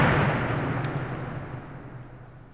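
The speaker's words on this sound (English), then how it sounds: "the end of the battle was marked with a shattering explosion" A shattering explosion as a French battleship blows up at the Battle of Trafalgar, a loud broad rumbling blast that slowly decays over a couple of seconds.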